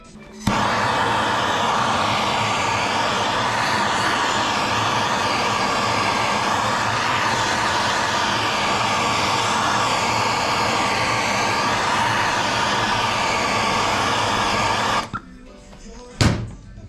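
A heat gun heats a Lambretta silent block, blowing a loud, steady whooshing roar for about fifteen seconds before switching off, followed by a couple of brief clunks.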